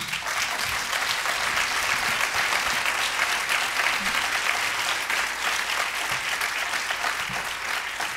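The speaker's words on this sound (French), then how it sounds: "vous puissiez applaudir avec chaleur Akila El Sodi et Malik Bezou" Warm, sustained audience applause at a congress on evangelisation and interreligious dialogue, honouring Akila El Sodi and Malik Bezou; dense, steady clapping from a hall full of people for about eight seconds, with no talk over it.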